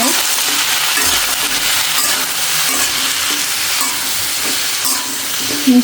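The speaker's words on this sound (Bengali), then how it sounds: "বেগুন ভাজি করার জন্য আমি একে একে সব সবজিগুলো দিয়ে নেই" Eggplant and other vegetables fry with spices in a pan, giving a steady, close sizzle with scattered stirring scrapes and clinks throughout, and no voices.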